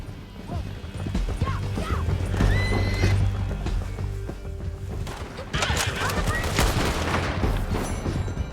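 Horses in the Red Dead Redemption 2 video game gallop with steady clip-clop hoofbeats and loud neighs and whinnies, mixed with crashes and scattered gunfire through a busy outdoor ride during the mission "An Honest Day's Labors".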